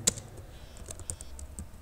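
Typing on a computer keyboard while writing HTML code: a quick run of light, close key clicks in an irregular rhythm, quiet and without voices.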